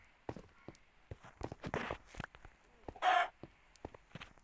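Minecraft chicken sounds: short clucks and flapping-like bursts with soft footstep clicks, scattered through a few seconds of game audio, no talking.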